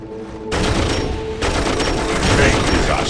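Gunfire in Dawn of War, two loud, dense bursts of shooting about a second apart over a battle din.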